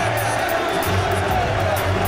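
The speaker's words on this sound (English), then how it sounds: "the crowd are loving him" A boxing arena crowd at a world heavyweight title fight roars and cheers steadily, a dense continuous wash of voices heard at a distance with no single caller standing out.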